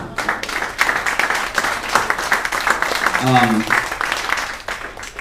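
At a surf guitar masterclass during a summer festival, an audience claps in a brisk, continuous patter with voices talking over the applause.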